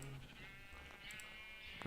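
A sheep bleats in a video game, one short, faint bleat at the start, followed by quiet game ambience and a few soft clicks.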